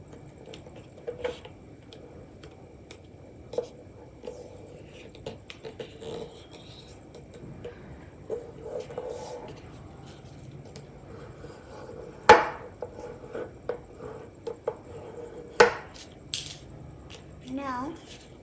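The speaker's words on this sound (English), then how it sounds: "Now unfold them from this side, fold it into half." Paper being folded and creased into an origami cube, with soft scattered rustles and a few sharper crease snaps, quiet and close, under a voice giving instructions.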